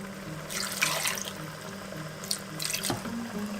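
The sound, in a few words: water poured into a wok while cooking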